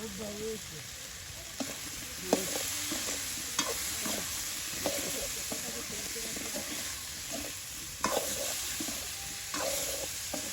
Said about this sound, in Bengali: আলুগুলো কষায় নিতেছি